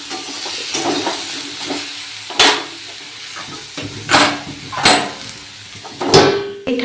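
Mustard greens cook slowly over low heat in a pan, a soft continuous sizzle broken by several louder scraping stirs of the spatula at irregular intervals.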